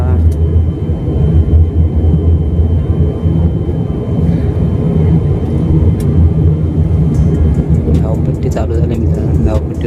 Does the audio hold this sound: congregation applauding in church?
no